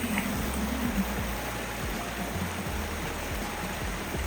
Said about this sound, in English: I see this water swirling around right here and coming down in a funnel, comes down into this pool.